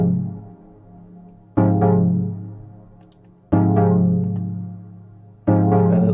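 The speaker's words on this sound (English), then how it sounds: "Another very, very important part of the backing track is the chord stab" Roland Juno 60 synthesizer chord stabs for a backing track, three sharp attacks spaced about two seconds apart, each decaying into a warm sustained tail, loud and up front with no talking.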